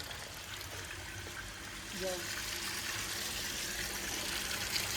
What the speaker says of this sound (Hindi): अरे देखो हमें झरना देखने को मिल रहा है।